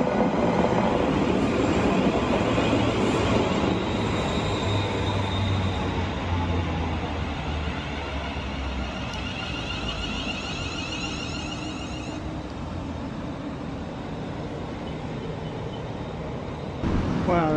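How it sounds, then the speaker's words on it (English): A 12-coach London Northwestern train bound for Wolverton rumbles steadily at close range, with a continuous roar of wheels and motors and a high whine that fades partway through. "Alright, this is our train. This is going to take us back to Wolverton."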